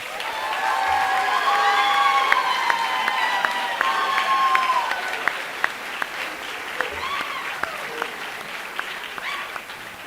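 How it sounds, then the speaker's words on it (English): Audience at a high school spring band concert applauds and cheers for the pit orchestra, steady clapping with whoops and shouts that gradually fade to scattered claps. "Let's give that a big round of applause"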